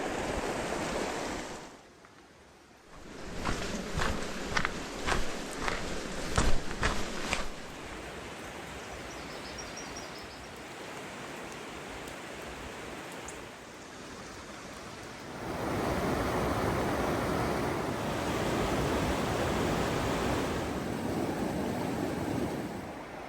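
Rushing water at a rain-swollen hiking trail stream crossing in spring, a steady broadband wash that runs through most of the clip, with a brief drop early on and a louder stretch toward the end.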